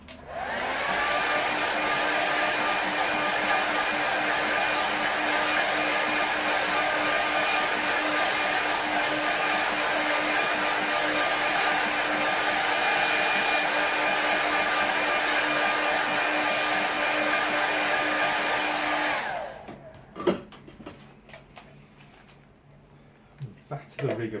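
Hair dryer blowing on a watercolour painting of a park landscape, a loud steady whirring roar for about nineteen seconds before it cuts off, followed by brief handling clatter.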